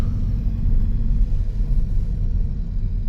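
A steady, low engine rumble fills the enclosed space, a muffled drone heard from inside a moving 2013 Volkswagen Jetta TDI diesel, six-speed manual, emissions-deleted without a tune, with no voices.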